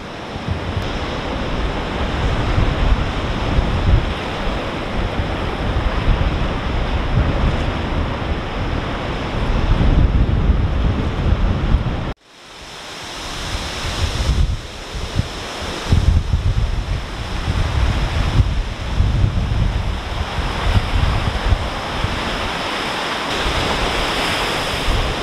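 Storm waves on Lake Erie during the Halloween storm of 2019 crash over a wall in a loud, continuous roar, thick with gusting wind noise that briefly drops out midway before surging back.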